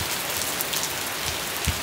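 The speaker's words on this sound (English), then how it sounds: "Boy, this rain going crazy right now," Dense, steady downpour of heavy rain hammering a surface, a constant wash of noise with no voices.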